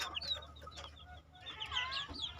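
A brood of healthy young chicks peeps and cheeps in quick overlapping bursts, close by, with a brief lull midway before the chirping swells again over a faint low hum.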